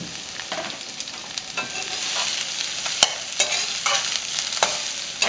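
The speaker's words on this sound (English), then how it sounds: "This time I'm using brown mustard seed. Add mustard seed. And they will pop" Brown mustard seeds crackle in hot oil, their quick sharp pops and snaps scattered over a continuous close sizzle.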